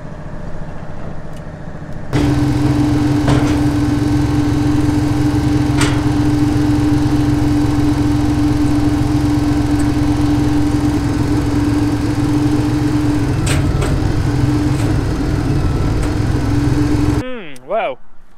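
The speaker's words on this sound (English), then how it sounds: "I'm gonna switch over the auger into the urea bin" A farm grain auger runs steadily while loading urea fertiliser from a storage bin, giving a loud continuous engine-driven drone with a steady hum that holds for about fifteen seconds before cutting off abruptly.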